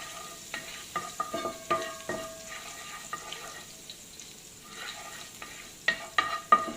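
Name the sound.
crushed garlic cloves cooking in a pan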